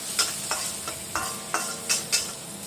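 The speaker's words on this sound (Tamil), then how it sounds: "எண்ணெய் சூடான பிற்பாடு நம்ம நறுக்கி வச்சுருந்த வெங்காயத்தை போட்டுக்கலாம்" Chopped onions frying in hot oil for a Chinese Kam Heong paste, with a steady close sizzle broken by six or so distinct scraping stirs of a utensil against the pan.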